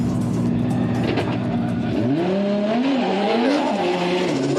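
Number 770, a Cusco Racing GR86 drift car in Formula Drift Japan qualifying at Fuji International Speedway, its engine revving up and down in rising, falling sweeps amid tire squeal, loud and close.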